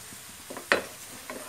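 Onion paratha frying in ghee on a tava griddle, a soft steady sizzle with a few brief louder bursts as the pan is tilted and the ghee shifts, close and alone without talk.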